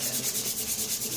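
Rhythmic sanding of a repaired broken guitar neck, a quick steady back-and-forth rasp with about ten even strokes, close and clear with no voices.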